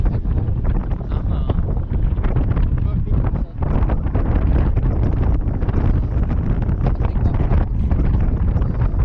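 Strong, constant wind roars and buffets the microphone high atop a 335 ft drop tower thrill ride at night at Busch Gardens Tampa Bay, loud and unbroken throughout with only a momentary dip.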